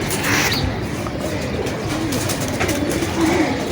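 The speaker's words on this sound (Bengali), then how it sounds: "চলেন সেই অতিথি কবুতরটা আপনাদেরকে দেখাই" Pigeon cooing on a rooftop flying loft above a hen pigeon's cage, several soft low coos repeating close by over a constant outdoor background.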